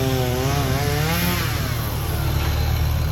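A power tool runs steadily and loudly throughout, its motor drone rising slightly in pitch at the start, during day two of building a shop; no speech is heard.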